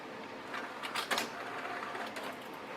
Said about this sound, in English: So it's sucking in my mat.